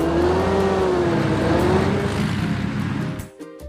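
A car drives along a road in a children's vehicle game, its engine holding a steady, slightly rising tone that fades out near the end.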